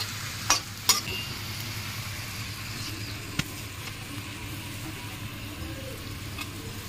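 Paneer and pea curry with potatoes sautés in a pan, giving a steady close sizzle with a few sharp utensil clicks and taps early on.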